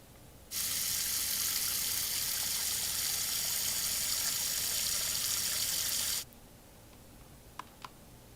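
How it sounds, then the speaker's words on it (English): Shower water running in a children's pool playset scene, a steady bright hiss that starts abruptly, holds for about six seconds, then cuts off, followed by a couple of small clicks. "Now, before Bluey gets in the pool, it's important to have a shower."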